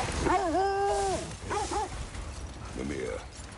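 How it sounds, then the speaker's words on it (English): A dog in the God of War video game gives a few short whining, yelping barks, fairly close and clear, with game ambience beneath. "Stop barking."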